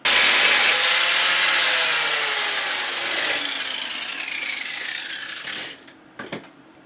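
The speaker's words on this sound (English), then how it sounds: "I'm just going to go around this gap with the grinder in" An angle grinder cutting into the side stand of a Royal Enfield Scram 411, a loud, high whine that slowly winds down in pitch, followed by a few brief clanks.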